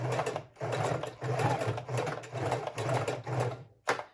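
A sewing machine stitches through a fabric book cover in short repeated bursts with brief pauses between them, close and moderately loud.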